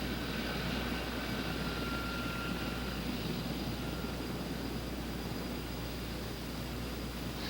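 Sikorsky CH-54 heavy-lift helicopter taxiing into position over a heavy load, a constant dense engine and rotor roar with a low steady hum, unchanging and heard from a moderate distance.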